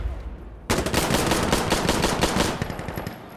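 Pistol fire in the video game Insurgency Sandstorm: a loud, rapid burst of close shots begins abruptly after a quiet moment and continues for about two seconds before trailing off, no talking.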